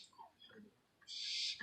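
A trained falconry bird at an outdoor demonstration gives a sharp, hissing screech near the end, after a few soft, faint chirps. The bird is close and there are no clear voices.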